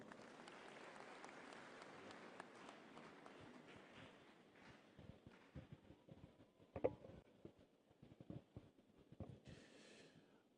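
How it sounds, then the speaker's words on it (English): An audience at a university graduation ceremony claps in a steady wash that thins out into scattered, uneven claps and faint movement toward the end, heard from a distance and fairly quiet. "Shall we give him a clap?"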